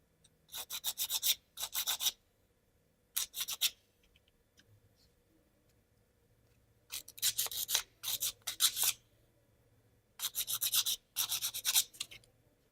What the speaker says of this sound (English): smooth them out with the sandpaper and wax them